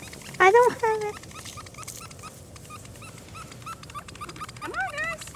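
Puppies outdoors give a few short, high whimpers and whines, one cluster near the start and another near the end, over a quiet background with a person talking softly nearby.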